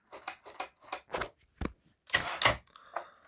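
Mechanical clatter of a Hermes Baby portable typewriter with a plastic body: a series of sharp key strikes and carriage clicks in an irregular rhythm, close and fairly quiet, ending with a brief ringing tone.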